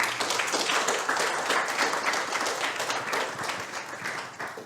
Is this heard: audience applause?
yes